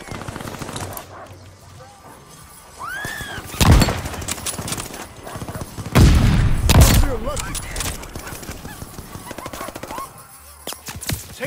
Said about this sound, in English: Teammate caught a bombing run.